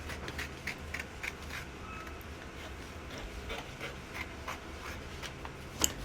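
Steady scissors working through pattern paper, trimming out a blouse yoke along a marked chest line for a corset blouse, with soft continuous snipping and paper rustle up close, no talking.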